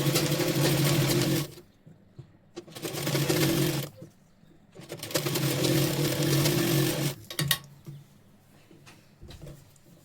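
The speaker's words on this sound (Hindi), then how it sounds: "तो पहले यहाँ पर आधा इंच का दाब लेते हुए हम इसका सिलाई लगा लेंगे" A sewing machine stitching a blouse through fabric and lining with a half-inch seam allowance, running in three loud continuous bursts separated by pauses, and brief clicks and a short final run near the end.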